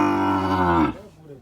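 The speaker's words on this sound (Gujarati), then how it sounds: "તો મિત્રો આ જે ગાય છે ઓમ આપણે ગુજરાતમાં તો કેટલી હશે" A Punganur cow lets out one long, loud, close moo that holds steady for most of a second before cutting off into quieter background.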